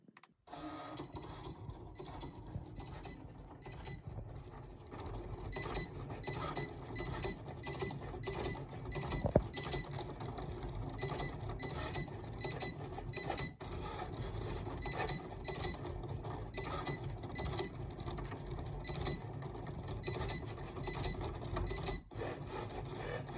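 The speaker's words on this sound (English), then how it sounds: "picked which sticker I wanted to test cut. And Cricut did the rest." A Cricut Explore 3 cutting machine cuts a vinyl sticker, whirring and clicking as the carriage shuttles back and forth in quick, irregular mechanical bursts. The noise runs close and steady, with a few sharper ticks and no voices.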